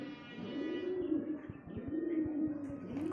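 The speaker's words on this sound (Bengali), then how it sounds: "তো এই এক জোড়া, এদের নাম বিউটি হুমার।" A pair of Beauty Homer pigeons coo close by in repeated rolling, throaty phrases, rising and falling in a steady rhythm with soft wing or foot taps between calls.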